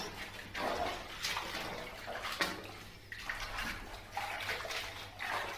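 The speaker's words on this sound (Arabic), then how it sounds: "ما تستهونوش بالنقع دوت او بالهرس اللي هو بيهرسه كده على البطانيه" A blanket soaking in muddy water is pressed and pounded back and forth, making rhythmic sloshing, splashing surges repeated every second or so, close and steady.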